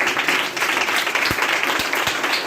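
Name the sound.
congregation applause in church service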